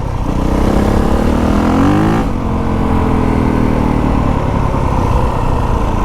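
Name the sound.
dirt bike engine with stock exhaust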